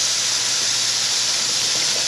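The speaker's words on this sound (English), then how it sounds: "All right, so we're going to add our broth so that we can get that up before it gets too dark." Chicken broth pours into a hot pot for wild hog stew, giving a steady, close hiss of steam and running liquid that holds evenly throughout, with no talking.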